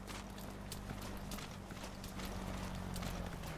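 Horse hooves clip-clop steadily at a walking rhythm in Metal Gear Solid V, fairly quiet and close, with low game ambience underneath.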